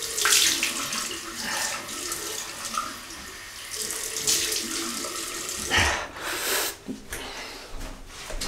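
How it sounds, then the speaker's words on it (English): Cold water runs from a tap for a rinse after a wet shave, a continuous close splashing and hiss that shifts as hands move through the stream, with a few brief breaks. "Cold water now, Welsh water rinse."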